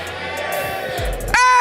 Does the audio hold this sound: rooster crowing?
no